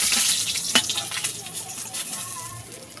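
Onion, garlic, ginger paste and ground cumin and coriander sizzle in hot oil left over from frying fish, a steady hiss with a clink near the start and no voices.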